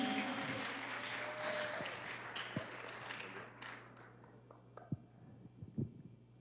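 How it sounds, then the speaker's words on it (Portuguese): Applause for a pastor introduced at a church conference, fairly faint and already fading, tapers into scattered claps, thumps and light footsteps over several seconds. "Então, pastor Walter, salva de palmas."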